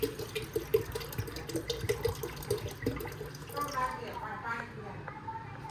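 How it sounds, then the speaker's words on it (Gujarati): Cold water is poured from a tap for making buttermilk, a gentle running splash of water near the microphone while a person talks over it. "જો આમાં બરફ નથી એટલે હું ઠંડુ પાણી નાખું છું."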